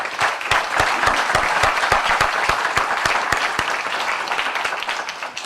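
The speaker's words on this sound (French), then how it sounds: "On peut les applaudir" Applause fills an annual general assembly as the audience welcomes the board of directors, a full crowd's clapping with distinct sharp claps standing out near the front, gradually thinning toward the end.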